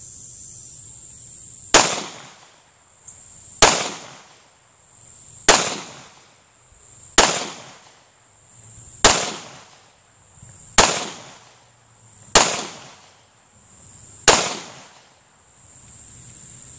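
Eight sharp gunshots from an M&P9c 9mm pistol fired at a gopher target outdoors, loud and evenly spaced about two seconds apart, each with a short decaying echo, over a steady high insect-like background tone.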